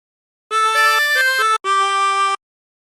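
A 16-hole tremolo harmonica plays a short phrase: bright reedy chord-like notes in two sustained bursts separated by a brief gap, clear and alone.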